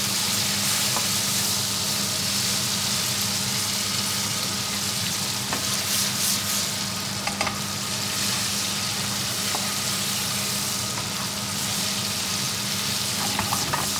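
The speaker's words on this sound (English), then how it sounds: "So those prawns are cooked and full of flavour now." Prawns fry in a pan for a British Indian restaurant-style madras curry, giving a loud, dense, unbroken sizzle for a long stretch with occasional faint clicks and spatters, no speech.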